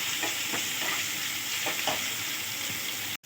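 Sooji sandwich pieces fry on a low gas flame with a steady, close sizzle and faint crackle throughout, cutting off abruptly at the end.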